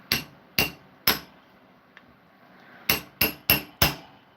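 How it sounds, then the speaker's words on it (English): Sharp metallic hammer strikes on a piece of silver ring out, three evenly spaced, a faint tap, then four more in quicker succession, close and loud. "Then grab a hammer."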